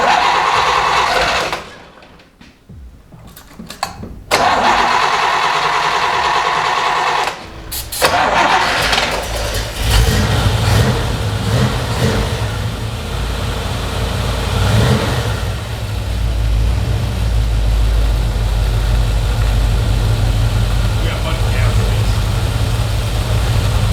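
A non-running 1960s Chevy muscle car engine cranks, catches after a few seconds and settles into a loud, rough, steady idle that continues to the end, close by.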